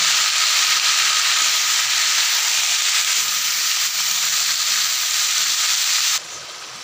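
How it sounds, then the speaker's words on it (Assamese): Vegetables sizzle in hot oil over fried onions and dried chillies for an Assamese fish curry, a loud steady close hiss that drops away near the end. "এতিয়া মই এই চব্জিখিনি ইয়াত বহাই দিম"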